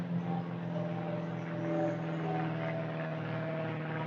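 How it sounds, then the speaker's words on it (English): A Cessna light aircraft flies overhead, heard as a faint, steady, low propeller drone that holds for a few seconds with a slight swell, with no one speaking. "sounds like a Cessna"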